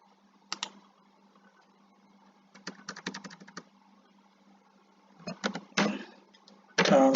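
Clicks of a computer keyboard as an Excel COUNTIF formula is typed, coming in short irregular bursts with pauses between them, soft and close by, with a louder cluster of keystrokes near the end.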